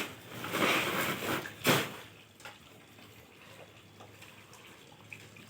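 Paddy rice is poured into a tub and soaked in water, giving a brief rush of pouring and splashing that stops abruptly, followed by quieter trickles and small drips.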